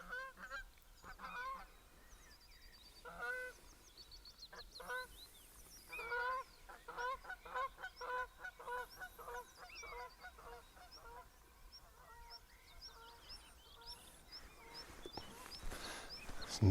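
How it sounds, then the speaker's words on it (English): Geese honk repeatedly in the distance, their calls overlapping in loose bursts over quiet outdoor air. "Nothing better than sounds of these birds in the early morning."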